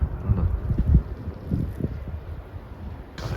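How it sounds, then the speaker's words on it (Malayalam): Wind gusting during a snowstorm in Ontario, Canada, a low rumbling buffet against the microphone with uneven thumps, continuous and fairly loud. "കാറ്റ്"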